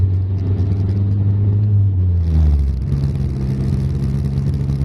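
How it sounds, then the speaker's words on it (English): A turbocharged Ford Probe GT with a T04b turbo drives along, its engine droning loudly and steadily, the pitch sliding down as revs drop and then settling into an even cruising hum with road noise. "Man, this car is running way smoother than it ever has before."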